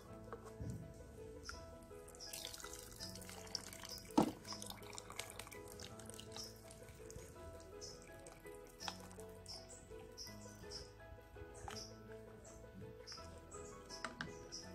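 Hot cooking water strains out of a pot from a stew of conch with coconut milk, giving faint dripping and pattering, with a sharper splash or clank early on, quiet and near with no talk.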